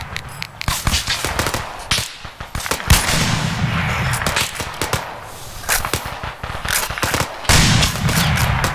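Patrol gunfire in a military firefight, rapid irregular cracks and machine-gun bursts, some close and loud, others fainter, sustained over several seconds with a heavier volley near the end.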